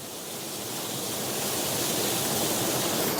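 Steady, roaring rush of a coastal waterfall at Kimmeridge, broadband and constant, building slightly louder over a few seconds with no other sounds.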